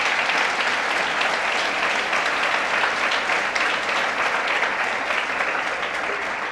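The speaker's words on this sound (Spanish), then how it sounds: "denle ese aplauso al Señor" Church congregation applauding, a dense, steady wash of clapping that holds at an even loudness throughout, with no voices standing out.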